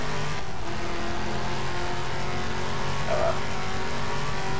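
Car engine in Just Cause 2, a steady droning roar with sustained engine tones holding throughout, no clear gear-shift break, continuous and fairly loud.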